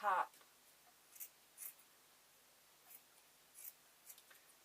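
Scissors snip through fabric while cutting the bottom edge of a sewn ghost bunting, a few short, quiet crisp cuts spaced apart with faint room noise between them.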